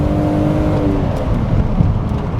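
BMW Z3 M Coupe with the S54 straight-six accelerating, a loud steady engine roar whose tone climbs and then blurs into broadband road and wind noise, heard from inside with no talking.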